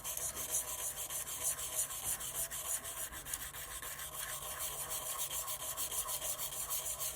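Sandpaper rubs rapidly back and forth over a lava lamp "Water Nymph" pen blank, likely spinning on a lathe, a steady close rasping hiss with quick rhythmic strokes and no talk.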